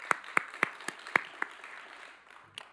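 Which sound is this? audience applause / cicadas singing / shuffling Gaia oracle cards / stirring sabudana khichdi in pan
audience applause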